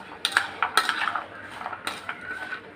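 Peanuts being stirred with salt in a metal pan, with a spoon scraping and clinking against the pan in a quick series of close, sharp rattles.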